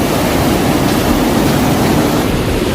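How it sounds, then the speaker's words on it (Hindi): Heavy river water rushes steadily through the opened gates of a dam on the Shivnath river at Durg, a loud, continuous broadband roar with no breaks and no voices. "देखो इस साइड पूरा पानी बहते हुए जा रही है।"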